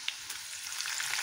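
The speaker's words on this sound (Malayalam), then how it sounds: "വെളുത്തുള്ളി ചെറുതായിട്ടൊന്ന് മുരിഞ്ഞ് വരുമ്പോൾ അതിലേക്ക് കറിവേപ്പില ഇടുക." Garlic and curry leaves frying in hot oil, a brief close crackling sizzle with sharp pops scattered through its steady hiss, heard without any voices.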